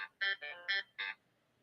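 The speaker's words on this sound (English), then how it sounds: "that's my phone, and I didn't turn it off today" A phone ringtone goes off in a quiet room during a trial recap, playing four short bright electronic bursts in an even, quick rhythm before cutting out.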